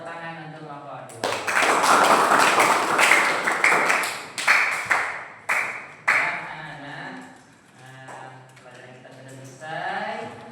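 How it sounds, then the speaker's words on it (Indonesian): A crowd claps together for several seconds, a dense burst of applause that tapers off, with voices speaking over the end. "Tepuk tangan untuk kelompok 2."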